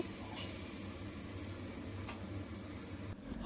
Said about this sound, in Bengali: এখন সুন্দর করে আলুটাকে ভেজে নেব